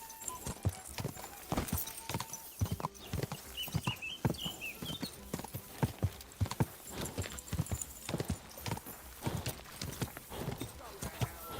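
Horse hooves galloping in the medieval game Kingdom Come: Deliverance, a fast, steady clip-clop rhythm of sharp thuds that runs the whole time, with a short high whinny partway through and no speech.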